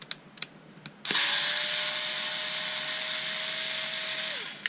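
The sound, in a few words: unscrewing screws from a Bosch Ixo screwdriver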